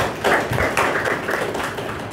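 Students in an eighth-grade class at a school clap their hands in a steady run of claps, fairly close and moderately loud, lasting a couple of seconds with no talking.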